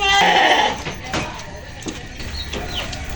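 A sheep gives a loud, close bleat at the start, followed by fainter bleats and rustling from livestock out in the open, with no talk over it.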